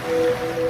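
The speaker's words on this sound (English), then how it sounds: "now you're drifting asleep to the scent and sound of waves" Soft ocean waves wash steadily under a thin steady hum, a continuous close surf texture with no talk, used as a sound effect in a laundry detergent ad.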